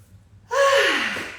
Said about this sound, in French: Et on baille.